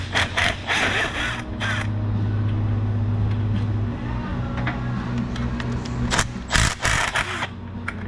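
Ratchet loosening 13 mm bolts on the water pump of a 1995 Jeep Wrangler 4.0, with steady mechanical clicking and ticking close by over a low continuous hum and a few sharper knocks.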